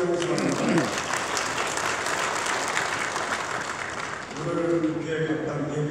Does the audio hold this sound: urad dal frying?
no